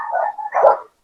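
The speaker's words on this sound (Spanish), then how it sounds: "perdón por los perros, son de mis vecinos" A neighbour's dogs let out a couple of short, loud barks close by, the second one sharper, then the sound cuts to silence.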